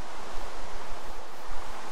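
Ocean waves in the Minecraft video game, a steady broadband wash of surf with a soft low rumble, heard alone and fairly loud throughout without any talking.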